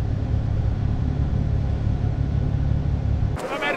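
A Mercedes engine rumbles at a winter endurance race, a loud, steady, close low drone that cuts off near the end, with no talking.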